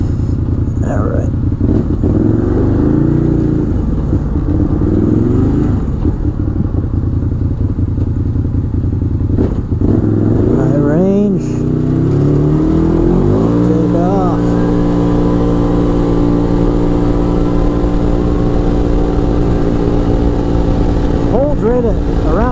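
Arctic Cat Wildcat 1000X side-by-side engine roaring during a test drive, loud and close with rising and falling revs, gear changes and bumps over rough ground, while someone talks over it.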